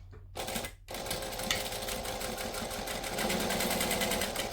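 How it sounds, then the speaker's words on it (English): A domestic sewing machine runs in a steady, close, continuous whir while back stitching along fabric, after a brief start-stop pause at the very beginning. "so I'm going to back stitch"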